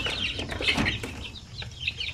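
Native chickens cluck softly inside a crowded coop, short overlapping calls over steady background noise.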